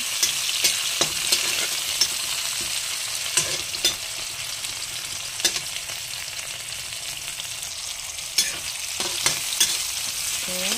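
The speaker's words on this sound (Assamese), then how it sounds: "বিলাহীটো অকণমান গলি যোৱালৈকে আপোনালোকে ভাজিব।" Tomatoes fry in a pan while a spatula stirs them, giving a steady, close sizzle punctuated by irregular clacks and scrapes throughout. No voices are heard.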